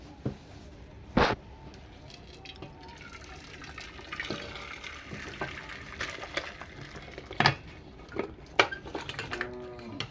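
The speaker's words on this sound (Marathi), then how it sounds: "मी हे ओतून घेणार आहे का वेगळ्या भांड्यामध्ये." Cooked mutton being poured from a cooking pot into another vessel in a home kitchen, heard as a soft continuous liquid pour with a few sharp metallic clinks of utensils against the pot.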